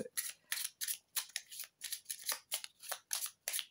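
Oracle cards being shuffled by hand: a quiet, even run of crisp papery riffles and slides, roughly two per second, close up and alone without any talking.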